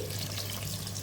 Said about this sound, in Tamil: இந்த காய் வேகிறதுக்கு தண்ணியை ஊற்றி